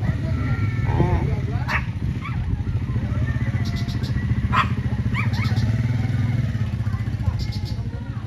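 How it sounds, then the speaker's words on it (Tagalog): A puppy on a farm yips and barks in a few short bursts under a steady motor rumble, with people talking nearby. "Tingnan nyo yung, tuta."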